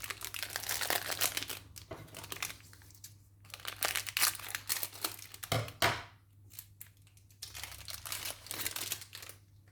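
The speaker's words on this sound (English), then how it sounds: "So I'm going to remove the packaging." Plastic packaging crinkles and tears as it is pulled off a replacement ribbon for a 1920s Remington Portable typewriter, in close bursts of rustling and crumpling with short pauses and one sharper rip midway.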